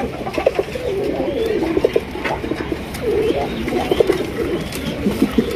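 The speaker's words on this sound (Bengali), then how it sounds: "এটা হচ্ছে সবজি রেসার কবুতর।" Racer pigeons coo repeatedly in a loft, with low throaty calls overlapping against faint wing and shuffling noises close by.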